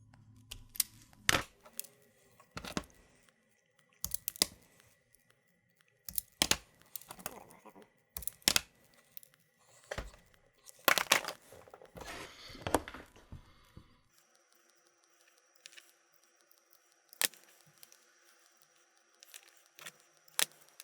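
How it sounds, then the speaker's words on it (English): Wires are stripped for a motion detector hack on a Halloween prop, a series of sharp scattered snips and tearing clicks at irregular intervals, quiet between, then fainter handling sounds near the end. "Alright, we got our wires stripped here."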